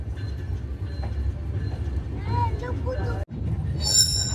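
The Madhumoti Express, an intercity train, pulls away from platform 14 at Dhaka's Kamalapur station with a steady low rumble. Wheels squeal along the rails and a sharp jolt lands near the end, with voices murmuring faintly underneath.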